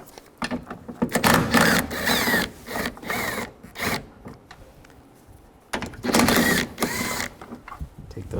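A 10mm socket ratchet works the mirror nuts off a 1999-2006 Chevrolet Silverado door, giving short bursts of rapid clicking close by, separated by pauses, with a quieter stretch in the middle.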